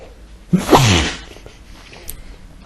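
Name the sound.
sneeze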